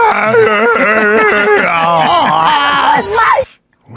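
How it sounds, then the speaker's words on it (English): A woman screams and wails during a clash between police and civilians in Santa Ana, her voice loud and strained with wavering pitch for about three seconds before cutting off abruptly. "I would like to hear the chick scream a little more"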